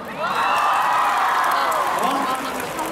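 A concert audience cheers, whoops and applauds a dance troupe, a sustained roar of raised voices close to the microphone that fades slightly toward the end.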